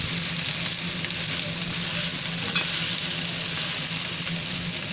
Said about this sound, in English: As long as it's pretty much all of it's just got the outside singed with really hot oil.